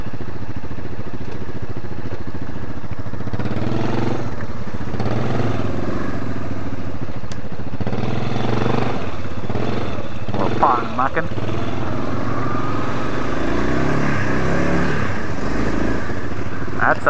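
A Honda engine on an ATV revs hard and steadily for the full stretch, loud and close, with rising and falling throttle bursts and some clatter, while people talk over it.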